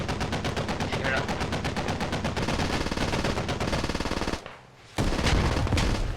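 Dense, loud gunfire keeps going through a video game infantry battle at a compound, with RPG and mortar fire amid the steady crackle of automatic weapons. One brief lull breaks the barrage before it resumes.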